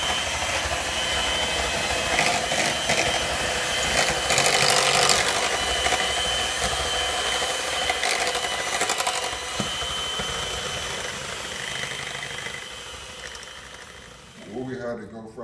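Pumpkin mousse being mixed with spices in a pot by a steady electric mixer, a continuous whirring drone, while a person talks over it.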